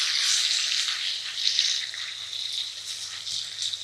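A ribeye steak sizzles in a hot pan while being cooked by someone living in a car, a close, steady frying hiss that swells slightly in places.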